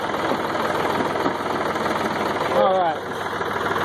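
A backhoe's diesel engine runs loud and steady while compacting, a constant rough mechanical drone with a brief swell, and one short spoken word over it.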